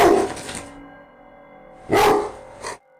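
A dog in a living room gives two short bursts of barking, the first at the start and a double bark about two seconds in, separated by quiet room tone.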